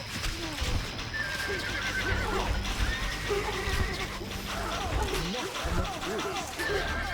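Horses neigh and whinny repeatedly over galloping hoofbeats and battle noise in the Stronghold Crusader strategy game, loud and busy throughout, with talk in the mix.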